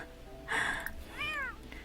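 Cats meowing in The Sims 4: a broad, bright meow followed by a clearer rising-and-falling meow, then a faint third cry, over quiet game ambience.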